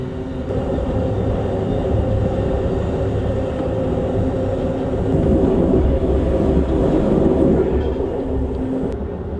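Amtrak Auto Train cars rattle and rumble loudly over rough tracks north of South Carolina, a constant heavy roar with irregular knocking clatter throughout.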